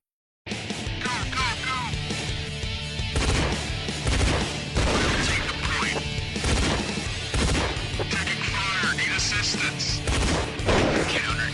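Gunfire from an online multiplayer video game rattles in dense bursts and single cracks amid crashes and clatter, loud and continuous, with voices heard intermittently underneath.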